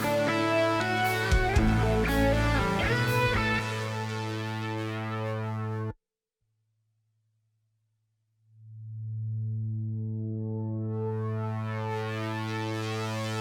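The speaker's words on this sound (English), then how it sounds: "Basically just a filter sweep" An ARP 2600 synthesizer plays a busy rock passage, cuts out briefly, then a sustained tone swells back in as its filter sweeps open into a long held note, bright and steady.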